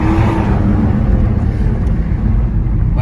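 A Toyota Supra engine roars steadily under full throttle while drifting, a loud, rumbling drone with wind buffeting the microphone, and no voices.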